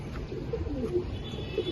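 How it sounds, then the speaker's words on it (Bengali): A Baghdadi male pigeon coos in a few low, soft, rolling notes close by, alone without talk. "এটা হচ্ছে একটা বাগদাদি নর কবুতর"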